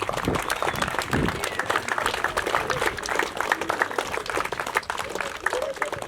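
Scattered applause from an audience, a mix of individual claps, with voices mixed into the crowd noise.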